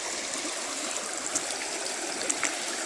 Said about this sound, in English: I just wanted you to hear the beautiful sounds of the creek.